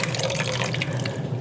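Water is poured into a pot of homemade pantry chili, a close, steady splashing trickle that runs continuously through the short moment without talk.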